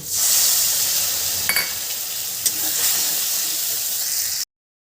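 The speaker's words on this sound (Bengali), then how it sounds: "এবার যে মশলাটা বানিয়েছি সেই মশলাটা দিয়ে দিচ্ছি" Spice paste sizzling and hissing in a hot pan of oil with potatoes while cooking a Bengali apple curry, a steady loud fry with a couple of brief stirring clinks, cutting off abruptly near the end.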